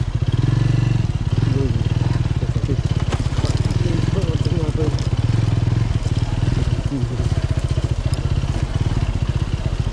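A motorcycle rides along a road running with rainwater, its engine loud and steady with close rumbling throughout and a clatter of spray and road noise.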